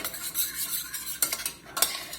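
Butter is stirred into wing sauce in a pan. A spoon scrapes and swishes in quick, close strokes with a soft sizzle beneath, and no one speaks.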